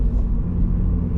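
A Subaru BRZ with a manual gearbox rumbles low and steady inside the cabin as it downshifts from fourth to third, a brief, loud engine drone with no talk.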